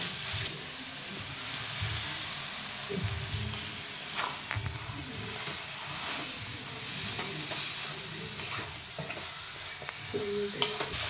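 Noodles being stir-fried with noodle masala in a pan for Chinese-style veg noodles, a continuous bright sizzle with scattered clinks and scrapes from stirring, close and fairly even.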